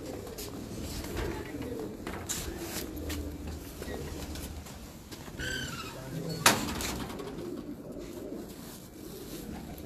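Soft cooing from pigeons kept in a loft carries on under a noisy background, with a brief chirping call and a sharp knock partway through, and a voice speaks faintly at moments.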